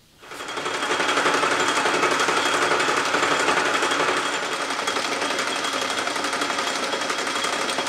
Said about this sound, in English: Someday, I'm going to fix all those noisy gears in my lathe.